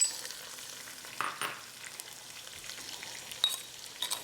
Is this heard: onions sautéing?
yes